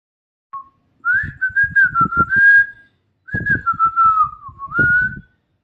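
A man whistles a wavering tune at a railway station, two long melodic phrases separated by a short pause, close and clear with no talk over it.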